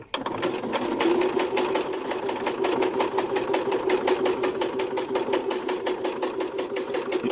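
Sewing machine running steadily in a straight stitch through cardboard scraps, a fast even mechanical whir with rapid needle clatter, close and continuous with no pauses.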